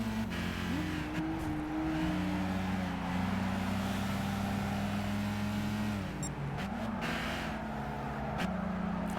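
A Seat Ibiza Cupra engine in the Gran Turismo 5 racing game drones steadily throughout, its revs rising and falling between gear changes, with faint tire noise underneath and no talking.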